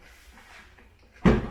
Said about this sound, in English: Why do I always struggle opening that door?